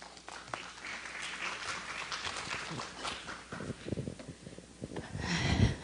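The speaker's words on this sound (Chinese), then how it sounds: "好，我们掌声欢迎。" Audience members at an energy policy conference clap to welcome a speaker, a fairly quiet, scattered patter that swells louder toward the end, with faint voices mixed in.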